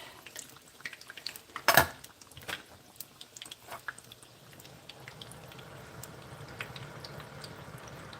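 Tortilla triangles sizzling in hot oil, a soft steady crackle that builds and thickens toward the end, with one loud clatter near the start and scattered light pops and clinks nearby.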